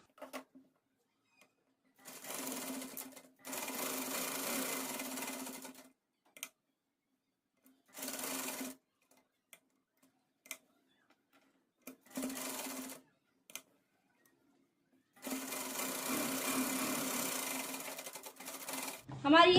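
Sewing machine stitching the side seam of a small child's Pathani kurta, running in several separate bursts of steady whirring, some short and some longer, with quiet pauses between them.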